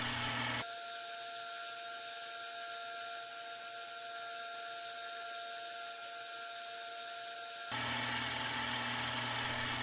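A shamrock ring being sanded with 600 grit on a rotary tool gives a steady high-pitched whine. It holds for several seconds with no talk and stops abruptly near the end.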